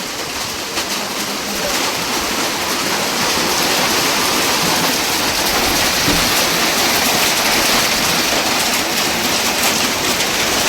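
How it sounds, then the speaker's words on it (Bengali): Rain begins falling during a storm in a village yard and quickly builds into a loud, dense, continuous wash of drops that holds steady to the end with no talking. "বলতে বলতে বৃষ্টি পড়ছে।"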